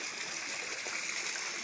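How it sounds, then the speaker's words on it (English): Water sloshing and splashing steadily as a grandmother wades into cold water, a continuous bright broadband wash close by with no voices. "Hey, Grandma's getting in the water, too."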